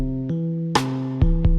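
Short excerpt of a chill FL Studio beat where a single snare hit carries a washy reverb tail that rings out over sustained chords and bass, followed by low kick thumps.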